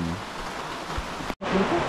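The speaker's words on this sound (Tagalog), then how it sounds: "Ang ulan." Steady hiss of rain falling, broadband and even, with a brief dropout near the end before it resumes.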